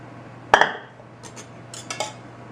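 Brownie batter scooped into a prepared pan: one sharp utensil clink against the pan, then soft scraping taps and a second small clatter, close and fairly quiet over a steady low hum.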